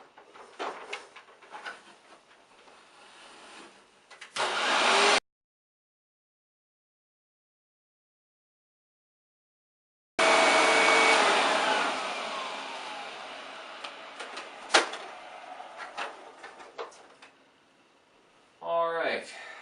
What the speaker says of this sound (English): I'm going to vacuum the bottom area of the piano